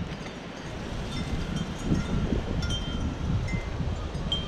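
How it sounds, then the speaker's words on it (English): Strong wind buffets the microphone outdoors in a garden at night, a constant low roar with gusty surges, no voices heard. "It's so windy right now."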